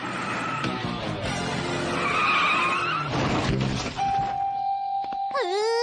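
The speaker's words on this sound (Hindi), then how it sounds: "कार रुक गई है।" Cartoon car skidding to a stop during a driving lesson, a loud sustained tire screech and engine roar, then a steady tone and a final sharp swooping squeal with thumps.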